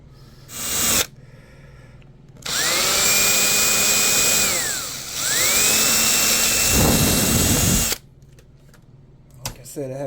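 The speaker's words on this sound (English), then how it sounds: "got me a little hole drill." A small hole drill bores into the hull of a Pro Boat SonicWake 24-inch RC boat, its loud whine rising and falling through two long bursts, with a short burst before and brief quiet gaps.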